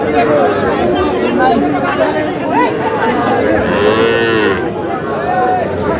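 Young bull calves at a cattle market in Kustia low now and then over a dense crowd of chattering traders. The mooing stays mid-distance and is partly buried in steady loud voices throughout.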